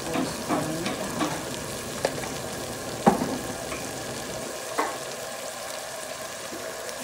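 Garlic butter shrimp frying in a hot pan gives a steady, close sizzle throughout, with a few sharp clinks and scrapes of stirring at irregular moments.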